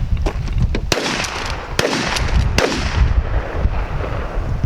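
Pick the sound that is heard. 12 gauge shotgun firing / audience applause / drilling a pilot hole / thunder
12 gauge shotgun firing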